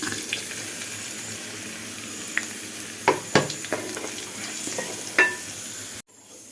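Coconut paste sautéing with banana stem in a pan for a Kerala curry, a soft continuous sizzle with a few sharp clinks and scrapes of stirring, ending abruptly.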